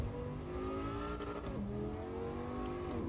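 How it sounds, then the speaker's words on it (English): Race car engine in the Assetto Corsa EVO driving sim revving and accelerating through the gears, a loud continuous whine with rising pitch sweeps and brief shift dips, close and steady throughout. "But the engine sounds good."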